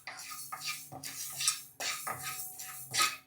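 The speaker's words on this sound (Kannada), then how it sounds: "ಸ್ಟವ್ ಹಚ್ಬಿಟ್ಟು ಅಕ್ಕಿನ ಸ್ವಲ್ಪ ಹೊತ್ತು ಚೆನ್ನಾಗಿ ಹುರಿರಿ" Rice being roasted in a pan on a stove for poppy seed payasa, with repeated metallic scrapes and clinks of a spoon against the pan in uneven strokes, close and moderately loud, no talking.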